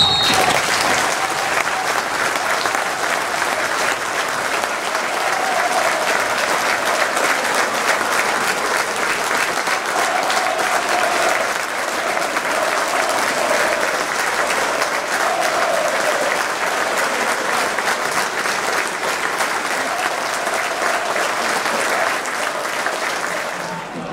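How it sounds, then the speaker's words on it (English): Football supporters at a Woking FC home match give a minute's applause in memory, steady dense clapping from a large crowd that holds evenly for over twenty seconds. "we would like to invite all supporters to join us in a minute's applause in his memory"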